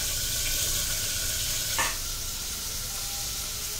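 Chopped large onions fry in hot oil inside a pressure cooker, giving a steady close sizzle throughout with one brief stirring scrape partway through and no voices.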